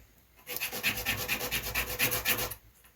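Rhythmic hand sanding of styrene plastic strips for HO scale model parts, about a dozen quick close strokes in a steady back-and-forth scrubbing rhythm lasting two seconds, then stopping.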